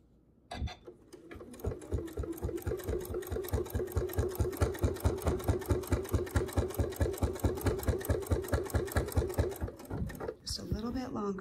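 A sewing machine stitches binding onto a quilt, starting with a click and then running a steady fast chatter of close, loud stitches for about ten seconds before stopping, with a brief voice at the end.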